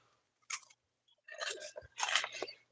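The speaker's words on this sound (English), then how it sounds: "so I got these crunchy curls from Brims" Crunchy curl snacks from Brims being chewed close up: a short crunchy bite, then two longer bursts of loud, crisp mastication, with no talk.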